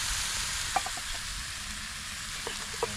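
Dalag fish simmers in coconut milk while being stirred, a soft continuous sizzle with a few light utensil taps scattered through it.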